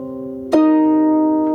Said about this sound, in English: Without Darkstar, my harp sounds like this.